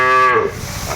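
A Sahiwal bull calf on a Tangail farm gives one loud, close moo lasting about a second, its rich tone sliding downward as it fades.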